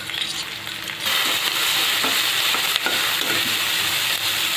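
Crushed green chili and garlic paste fries in hot oil with a loud, dense sizzle that swells after a second and holds steady, alongside faint stirring and no voices.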